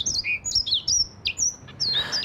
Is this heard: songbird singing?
yes